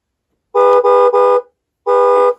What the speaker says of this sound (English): that's the honk